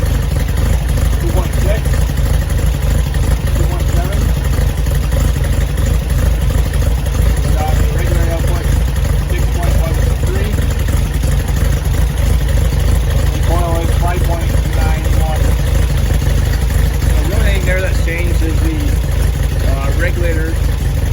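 A VW Beetle engine idles steadily during a 6-volt generator rebuild, a continuous low rumble running through the whole stretch while someone talks over it.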